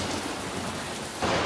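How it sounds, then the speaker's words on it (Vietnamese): Steady heavy rain pours through a cartoon storm, a broad continuous hiss that swells into a louder thunder rumble near the end, with no talk. "Mẹ ơi, tiếng sấm sét lớn quá."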